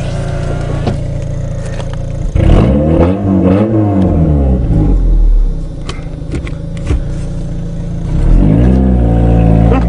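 A repaired Eagle Talon car driving off, its engine rumbling close by with a couple of revving surges and some clatter, running steadily with no talk.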